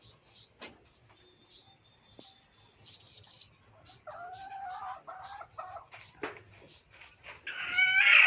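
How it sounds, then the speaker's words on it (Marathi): Several short clucks and squawks from chickens nearby, coming in irregular bursts, with a harsher rising call at the end. "बघा ही खूड कोंबडी, ही एक खूड कोंबडी, सगळे खूड कोंबड्या"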